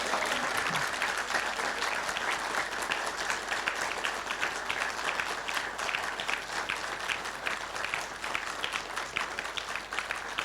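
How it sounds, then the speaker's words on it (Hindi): An audience claps at a talk, loud continuous applause with many hands overlapping and no single voice standing out. "तो उन्होंने कहा था कि ताली भी जब बजाओ तो कौन से नंबर के बजाओ?"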